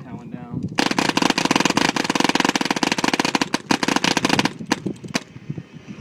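A paintball gun fires a rapid, steady stream of loud sharp pops at a board for several seconds, then stops with a few scattered shots.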